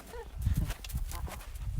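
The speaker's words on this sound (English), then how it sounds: "This ain't no roping horse." A ridden horse moves across an arena, with soft repeated hoof thuds in an uneven rhythm and faint rustling of tack, fairly close and quiet, with no talk.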